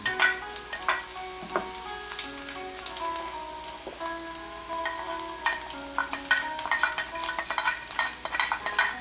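Chopped onion and garlic sauté in a hot pan, a steady crackling sizzle broken by the clatter and scrape of a utensil stirring at close range, getting busier toward the end.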